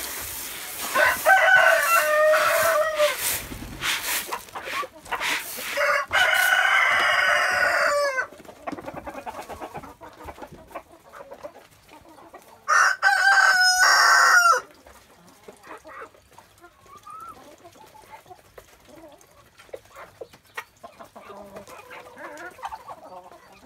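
Several roosters crow loudly in long drawn-out calls, with chickens clucking and scratching around in between, close by at an early-morning coop feeding.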